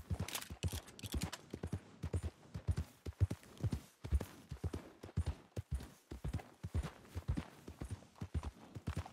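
A horse's hooves clip-clop in a steady, brisk rhythm across the ground in Red Dead Redemption 2, with close, crisp repeated strikes throughout.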